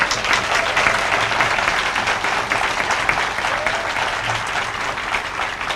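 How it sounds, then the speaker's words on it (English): Dense, steady applause from an audience at a Purple Light Nights lighting ceremony, sustained and fairly loud for several seconds with a faint voice underneath. "Can we give Sheriff High a round of applause?"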